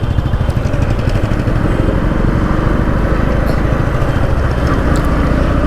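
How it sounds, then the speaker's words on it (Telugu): Continuous loud engine drone of a riding motorcycle amid road traffic near a flyover construction zone, steady and close throughout with no pauses. "ఇక్కడ కొంచెం ట్రాఫిక్ ఉంటుంది"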